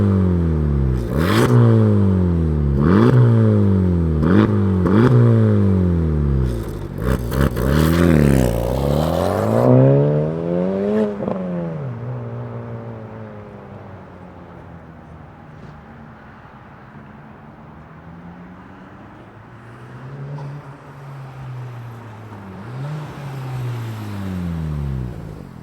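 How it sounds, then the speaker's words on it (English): A Honda Civic Type R FL5 with a titanium exhaust revs hard several times in quick succession, then settles into a lower idle with a few lighter blips, loud and close with no talking. "So I can't wait for you to hear this exhaust sound."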